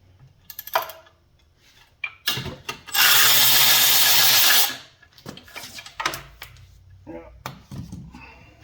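An 8 mm bolt on a small engine being loosened and removed with a wrench, with clicks, clanks and ratcheting bursts, including one loud, sustained, broadband burst in the middle.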